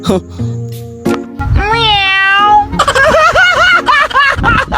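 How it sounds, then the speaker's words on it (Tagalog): A pet cat meows several times in a drawn-out, wavering way, close and fairly loud, in a home kitchen while cooking oil heats. "nilaro ko may pusa ko, nanggigigil kasi ko"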